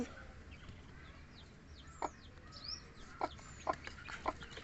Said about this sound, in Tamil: இதுதான் அவங்களோட கோழி குஞ்சு.